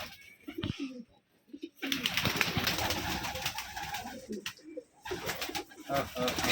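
Domestic pigeons kept by a hobbyist coo close by in soft, repeated throaty calls, broken by short pauses, with some faint background voices.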